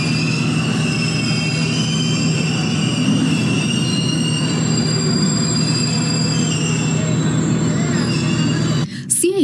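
A long-distance train in Sri Lanka rolls along the railway tracks, a loud continuous rumble with high wheel squeal and rail noise that holds steady before a sudden change near the end.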